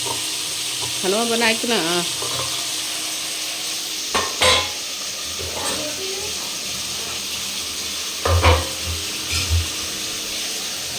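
Potato and cauliflower frying together in a pan, a steady loud sizzle with occasional stirring clatters, someone speaking briefly over it.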